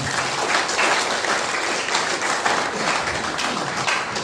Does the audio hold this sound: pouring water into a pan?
no